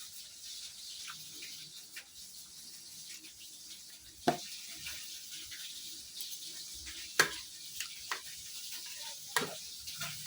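Fish fries in a pan with a faint, steady sizzle and a few sharper pops and crackles scattered through. The sound is quiet and continuous, with no speech over it.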